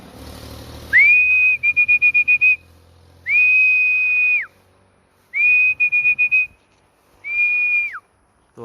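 Clear, shrill whistles repeated four times, each a long rising then falling tone, with quick trilled bursts between the first few, loud and close.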